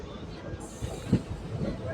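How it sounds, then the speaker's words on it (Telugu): A Tirupati–Guntakal passenger train rumbles past on the adjacent track, a low, steady rolling noise with faint rail clatter, heard from inside a moving train at moderate distance. "మన పక్క ట్రాక్లో ఒక ట్రైన్ కనిపిస్తుంది చూసారా, ఇదే తిరుపతి నుంచి గుంతకల్ వెళ్ళే ప్యాసింజర్"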